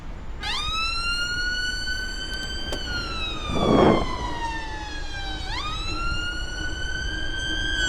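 Emergency vehicle sirens wail close by near a roundabout, their pitch sweeping up and down in long rising and falling cycles over steady traffic rumble.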